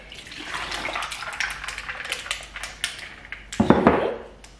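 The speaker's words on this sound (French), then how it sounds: "je vais mettre mon thé qui était dans ma tasse" Tea poured from a mug into a glass cup, a thin trickling stream with light clinks of glass, growing into a brief fuller splash near the end.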